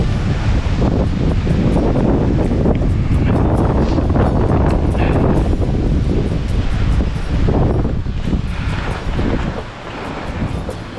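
Strong wind gusting off a frozen lake in the snowy Adirondack mountains in brutal cold, a loud, continuous roar buffeting the microphone for the whole stretch, easing slightly near the end.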